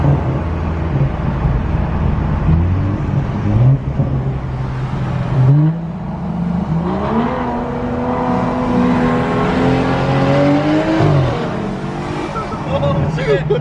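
BMW E90 engine revving under brake boost, a loud steady drone that swells and sweeps up in pitch several times, with voices talking over it.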